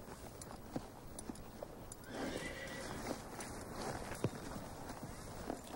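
A horse in a city market stable area gives a clear whinny, while scattered hoof clops sound on hard ground in a quiet outdoor setting.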